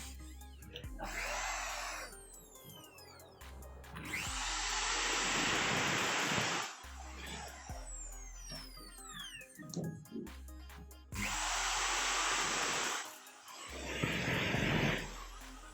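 A 13mm electric drill runs after a switch repair, whirring up in two strong multi-second bursts and winding down, with quieter pauses and small handling noises between.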